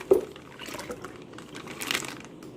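Milk pours into a pan in a home kitchen, a soft, steady liquid trickle with a faint splash at the start and light crinkling, heard close up with no talk.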